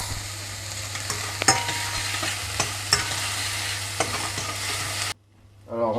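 Chopped onion softening gently over low heat in a pan without browning, a steady soft sizzle with a few light stirring clicks and scrapes, broken off by a brief near-silence and a small clatter at the very end.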